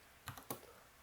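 A couple of quick keystrokes on a computer keyboard while writing code, two close clicks and nothing else, recorded near and fairly quiet.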